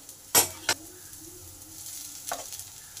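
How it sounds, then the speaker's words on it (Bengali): Jute leaves tipped into a pan of frying onion, garlic and chili: two sharp clatters of utensil against the pan, then a soft sizzle, with another clink near the end. "এবার শাকটাকে দিয়ে দেব।"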